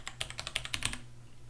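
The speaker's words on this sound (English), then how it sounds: "watch what happens even if I type very rapidly like you would normally do" Rapid typing on a computer keyboard, about ten quick clacking keystrokes in under a second, close and clear, then the room goes quiet.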